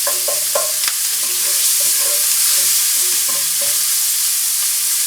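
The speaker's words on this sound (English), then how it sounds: "We're going to take our pandemic pancetta, which is ham and bacon, and we're going to stir that in there." Pancetta of ham and bacon being stirred in a pan turned down to low heat, with a soft continuous sizzle and a series of close scraping stirs, no talking.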